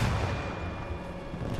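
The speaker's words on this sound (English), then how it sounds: "I'm gonna fucking fire a rocket on their stupid heads" A rocket launcher fires in a first-person shooter game, giving a loud, heavy boom with a rumbling low-end tail that fades over about a second and a half.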